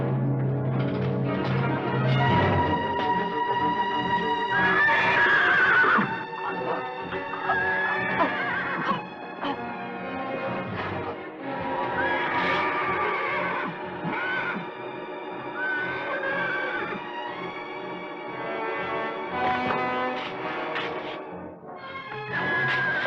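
A mare close to foaling whinnies and neighs repeatedly over a dramatic orchestral film score, the calls rising and falling between swelling strings and brass.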